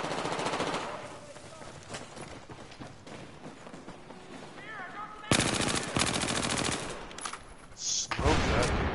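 Rapid machine gun fire in a first-person shooter video game, loud rattling bursts with scattered single shots, sounding under casual player chatter.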